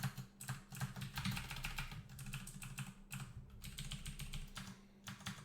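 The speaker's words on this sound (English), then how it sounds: "I use Cherry MX Blues myself because I enjoy the incredibly loud clicky clack" Rapid, continuous typing on a Cherry MX Blue mechanical keyboard, with loud, crisp clicky keystrokes close up and only brief pauses between bursts.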